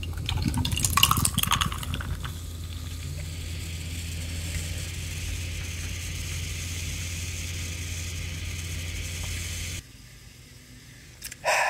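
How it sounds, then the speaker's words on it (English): A bottle of Hey Song Sarsaparilla soda is cracked open with a brief burst near the start, then a steady fizzing pour runs for several seconds before stopping, close up with no talking. "Let's go ahead and pop this soda."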